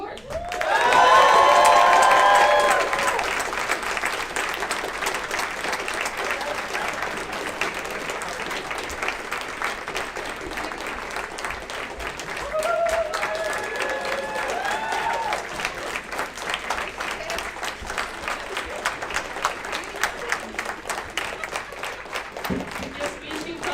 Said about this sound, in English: let's give a big round of applause for the newly elected National Board